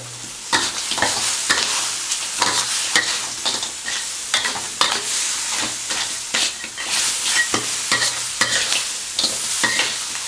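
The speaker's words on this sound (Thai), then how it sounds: "หอมใหญ่ใส่ลงไปผัดให้หอมนะฮะ" Onion and blanched crab are stir-fried in curry sauce in a pan, with loud, continuous sizzling broken by rapid, rhythmic scraping strokes of a spatula throughout.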